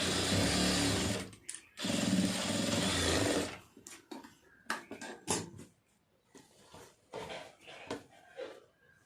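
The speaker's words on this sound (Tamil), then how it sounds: "அதை அப்படியே தையல் போட்டுருவோம்" Sewing machine stitching a lining blouse along a marked line, a loud steady run for about three seconds, a brief pause, then another two-second burst, followed by scattered handling clicks and cloth rustles.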